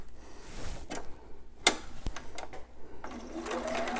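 A sewing machine stitches elastic onto a newborn romper in short bursts, its close mechanical whir broken by a sharp click and pauses before a longer steady run.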